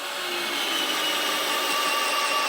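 A power drill in drill mode drives drywall screws into plywood, whirring steadily and close by, a continuous high-pitched grinding whine with no pauses and no voices.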